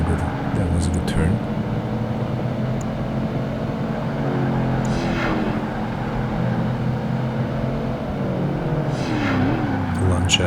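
Race cars roar through a lap in Project Gotham Racing 2, an SUV series event with a Lancia HF Integrale ahead, engines droning steadily with rising and falling pitch sweeps as cars pass, under continuous commentary.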